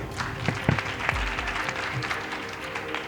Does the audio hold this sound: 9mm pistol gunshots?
no